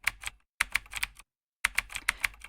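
Fast typing on a computer keyboard, close and fairly quiet, coming in short bursts of rapid key clicks separated by brief pauses.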